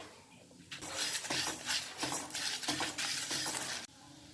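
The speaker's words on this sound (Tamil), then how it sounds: "இப்போ இதை எல்லாத்தையும் வறுத்து எடுத்துடலாம். சேர்த்து நல்லா வறுத்துடலாம்." Coriander seeds, dried chillies and turmeric dry-roasted in a pan, with repeated close scraping and clinking stirs over a faint sizzle after a quiet start, then fading at the end.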